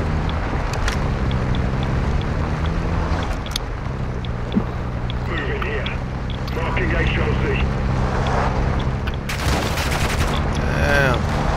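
Gunfire in the Call of Duty video game crackles amid a steady engine-like rumble, with scattered shots and bursts across the scene and a louder sharp burst near the end, under voices talking.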